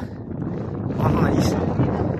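Steady wind rushes and buffets the microphone in a low continuous roar on cold, snowy Kalinchowk in Nepal, with a voice faintly present underneath.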